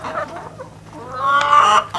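Chickens cluck in a short burst of several overlapping calls, close and fairly loud. One bird gives a rising, drawn-out note near the end. No one speaks.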